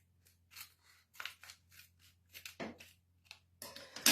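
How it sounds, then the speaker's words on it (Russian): Scissors snip open a nutrition stick of cellular food in a series of close, crisp cuts and rustles, ending in a louder crinkle of the packet, with no talking. "Мы берем ножницы и аккуратно его разрезаем."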